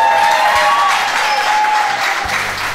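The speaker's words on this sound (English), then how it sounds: "Ladies and gentlemen, can you clap your hands?" A studio audience on the TV dating show Hello Mr. Right claps as the show goes to a break, loud and close, over a bright melodic tone and low rhythmic thumps.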